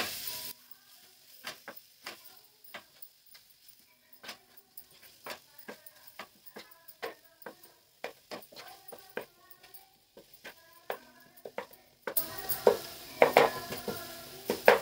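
Onion, tomato, red chili powder and Kashmiri chili sauté in a pan for bottle gourd bharit: a soft sizzle under repeated sharp clicks and scrapes of a spoon stirring, growing busier and louder near the end.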